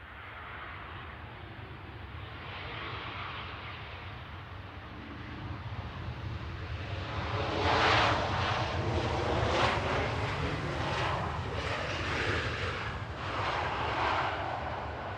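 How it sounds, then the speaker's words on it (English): An 11-year-old TUI Boeing 737-800 arriving from Lanzarote crosses the runway threshold at Manchester Airport on landing, its jet engines a broad steady roar that swells louder partway through, with some wind noise and no talking. "Just coming over the threshold is TUI from Lanzarote, 11-year-old 737-800"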